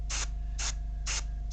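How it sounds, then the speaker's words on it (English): An airbrush trigger pulsed in short bursts, three evenly spaced hissing sprays about half a second apart over a constant low compressor hum. "you'll probably hear rather than see that I'm kind of pulsing the trigger"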